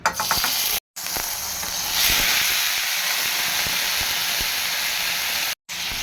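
Steady, loud sizzling hiss of chopped tomatoes frying in hot oil for Kongu-style tomato thokku, with faint scraping clicks and two brief dropouts.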